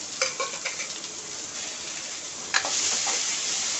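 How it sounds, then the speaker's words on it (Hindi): Finely chopped onions and a bay leaf sizzle in hot oil in a pan while masala soya chaap is being made. A steady close fry runs throughout, with a few stirring scrapes and clicks. "अब इसे भूनेंगे, गोल्डन ब्राउन होने तक इसे भूनेंगे।"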